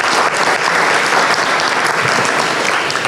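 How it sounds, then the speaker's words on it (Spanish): A crowd claps in sustained, dense applause, loud and steady throughout. "Sí, un aplauso, por favor."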